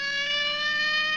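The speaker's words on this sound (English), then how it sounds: "Dioxide turned on a siren" Cartoon siren switched on: a steady, loud electronic wail holding one pitch with rich bright harmonics, continuous for about a second without rising or falling.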